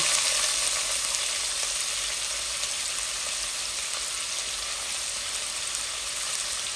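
Onions dropped into hot oil already holding cumin, fennel and two bay leaves, ready for fish, sizzle with a steady, loud, close frying hiss that stays even throughout, with no talk.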